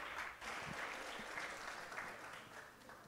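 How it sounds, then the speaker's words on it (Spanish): A dense wash of audience applause at a national English singing and spelling festival, steady and fairly distant, welcoming a contestant to the stage with no talk over it. "lo recibimos con un fuerte aplauso"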